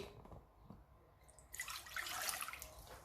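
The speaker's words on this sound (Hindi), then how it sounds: "बोल के अंदर हमने डालना है पानी" Water pours into a mixing bowl while puri dough is prepared, starting halfway through as a faint, steady splashing stream after a quiet stretch.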